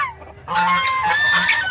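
Loud, close goose honks ring out in a quick series of nasal calls after a brief quieter moment.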